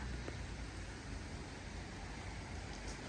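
Light rain falls steadily over Auckland, New Zealand, making a continuous soft, even hiss with no distinct drops or voices.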